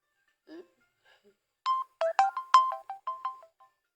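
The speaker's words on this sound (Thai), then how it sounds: "อัดวิดีโอยามใดเสียงเตือนเขาตอกตอกตอกตอกตลอดเลย" Phone alert tone repeating while riding along a road to a Laos market, a quick run of bright electronic beeps at varying pitch after a brief faint lead-in, clear against a quiet background.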